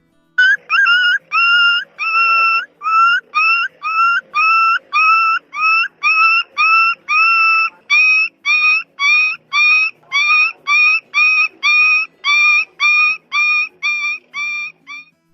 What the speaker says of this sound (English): Number 4, puppy dog crying.